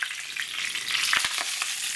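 Fish fries steadily in a pan, with hot oil crackling and a few sharp pops spitting through the hiss as water hits the pan.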